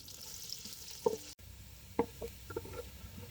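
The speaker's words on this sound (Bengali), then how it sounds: "এখন পেঁয়াজটাকে বেরেস্তা করে কিছুটা তুলে রাখছে" Chopped onions frying in oil in a pan, browning toward crisp birista, give a soft steady sizzle with a few sharper stirring clacks and scrapes; quiet and close, with no voices.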